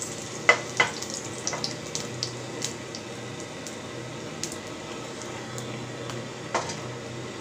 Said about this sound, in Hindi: अजवाइन मिलाया जाता है और इसको अच्छे से तड़काएंगे।